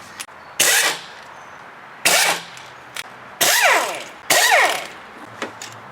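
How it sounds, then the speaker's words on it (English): Four bursts of a socket ratchet turning fuel rail bolts on a 2000 Chrysler 300M, each a rapid clicking run lasting about a second, close and loud, with small knocks in between. "next we're going to remove the fuel rail bolts"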